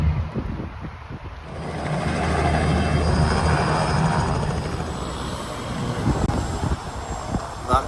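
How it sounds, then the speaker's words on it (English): A helicopter passes low overhead near a hotel in Orlando, Florida, its broad rotor roar swelling to a loud peak and then fading slightly, with traffic noise beneath. "That helicopter in the background literally just flew over my head."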